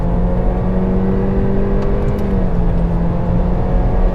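A Honda Civic engine pulls hard on a track lap, a steady loud drone with a sustained rising note that shifts slightly partway through, with no talking.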